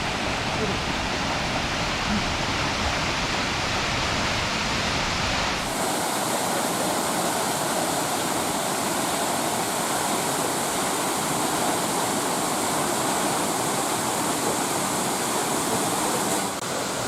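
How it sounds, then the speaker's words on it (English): Munising Falls at Pictured Rocks in Michigan's Upper Peninsula pours with a steady, loud, broadband rush of falling water, growing brighter and fuller partway through as if approached more closely, continuous throughout. "we had to come up and see Munising Falls"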